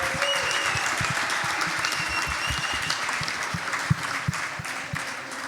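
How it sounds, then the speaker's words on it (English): Conference crowd at a startup pitch event in Malta applauds warmly, a dense, sustained wash of clapping with some low thumps and faint crowd murmur underneath. "let's get our startups a little bit warmed up by giving them a nice round of applause."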